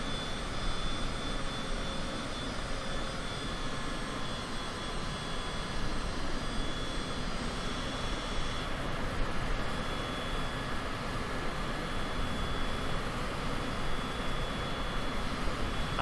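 In Microsoft Flight Simulator, an aircraft's engines hum in a constant broadband rush during descent toward Heathrow, a steady cockpit-level drone with no change in rhythm.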